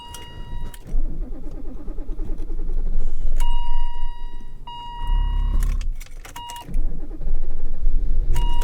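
A 1987 BMW M6 in roughly 20-degree cold: keys jangle and warning chimes ring while the engine cranks and catches, leaving a steady low running rumble close by.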